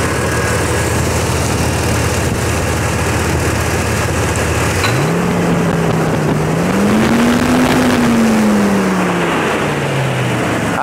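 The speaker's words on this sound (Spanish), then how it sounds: "Voy a acelerar el vehículo." A car engine idles steadily, then revs up with a rising, wavering pitch that climbs, holds and slowly falls away, loud and close, with no voices over it. The car is a running vehicle under a no-removal alternator test.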